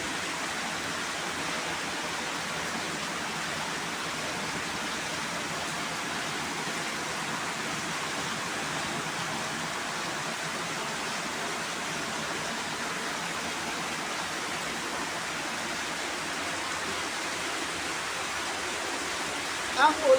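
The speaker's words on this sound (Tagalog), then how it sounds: "Ang ulan." Steady, dense hiss of heavy rain pouring down, a constant broadband wash with no pauses, continuing unbroken throughout.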